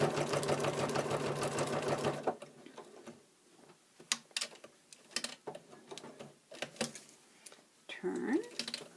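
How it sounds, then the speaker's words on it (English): A sewing machine stitches trim onto fabric window pieces with a quick, rhythmic needle chatter for about two seconds, then stops; scattered clicks and handling noises follow. "Stitch to that corner very slowly."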